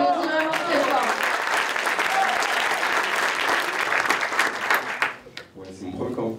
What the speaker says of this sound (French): On applaudit vraiment très fort.